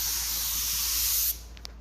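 A spray gun lays a coat of metallic paint on a car, a steady close hiss that cuts off sharply after just over a second, followed by quiet with a faint click.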